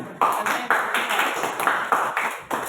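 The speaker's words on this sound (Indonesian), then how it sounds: "tepuk tangan untuk kita semua" A classroom of students claps together during a micro-teaching session, with steady, even hand claps at moderate volume lasting a few seconds.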